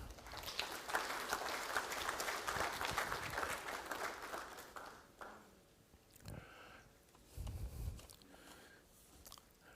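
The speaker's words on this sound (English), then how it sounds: "A round of applause, please." Applause from an audience at a university entrepreneurial fair, a dense wash of clapping for about five seconds that fades into scattered claps, light rustling and a few soft thumps.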